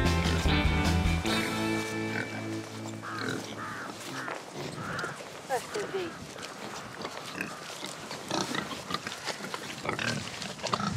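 Suckling piglets oinking and squealing at a farm near Tulcea in the Danube delta, Romania, a busy cluster of grunts with cawing birds mixed in and people talking over it throughout.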